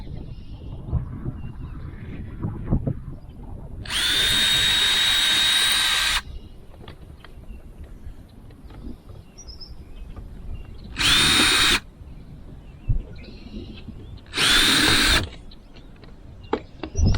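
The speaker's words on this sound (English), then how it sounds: "we're going to pre-drill this for our self-drilling screws" A power drill pre-drilling thin metal for self-drilling screws on a fifth wheel RV ladder whines in three separate bursts, one long and two short, with quieter handling noise and rustling between them.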